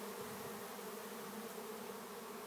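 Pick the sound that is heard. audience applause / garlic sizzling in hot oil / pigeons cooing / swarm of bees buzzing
swarm of bees buzzing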